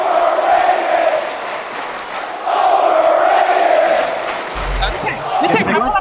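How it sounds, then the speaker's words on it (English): An esports arena crowd roars during a live OpTiC match, a loud swelling cheer that rises, dips and surges again beneath fast commentator talk. "The crowd fired up."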